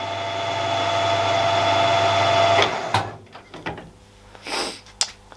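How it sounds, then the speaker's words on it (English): A Harrison M300 metal lathe runs with a steady mechanical whine and hum, then cuts off abruptly partway through, followed by a few scattered clunks and knocks. "by pulling this down, makes the lathe start up and go forward"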